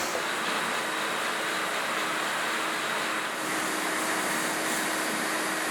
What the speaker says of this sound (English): we need to go around with the vac, make sure any loose flake that's on the surface is vacked up